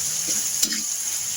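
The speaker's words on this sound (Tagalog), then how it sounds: "Itosta natin yung chili para kulang pa yung kulay niya." Chili sizzles and crackles steadily in hot oil while being stirred for homemade chili oil, a close, continuous fizz with a small clink partway through.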